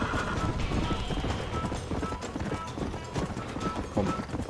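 A horse moves in a Western open-world video game, hooves clip-clopping continuously through dense, noisy ambience, with a voice talking over it.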